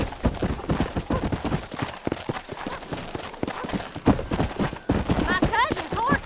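Galloping horse hooves pounding rapidly during a horse race in the video game Red Dead Redemption, loud and close with a voice talking over them.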